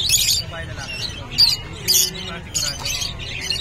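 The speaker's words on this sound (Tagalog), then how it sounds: "Tingnan natin mga ibon niya rito." Birds at the Bocaue pet market give repeated sharp squawks and chirps in short bursts over a steady crowd murmur, fairly close and loud.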